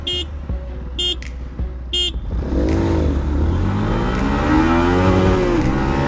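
Motorcycles, including a Yamaha MT15 and a Bajaj NS200, rev up loudly at a drag race start with rising, wavering pitch, several roaring together after a few short horn blasts.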